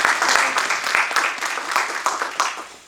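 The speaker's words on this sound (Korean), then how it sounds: "먼저 우리 너무나 감사한 마음으로 하나님 영광 박수 올려드릴까요?" Applause breaks out at a Korean book launch, a dense, even wash of clapping that holds for three seconds, close and moderately loud, with a little talk faintly mixed in.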